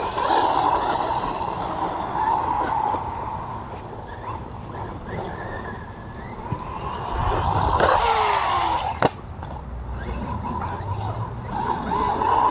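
An MJX Hyper Go 14208 brushless RC truck drives on a grippy outdoor surface, its steady motor whine and tire rumble continuing throughout at moderate distance, with one sharp knock partway through.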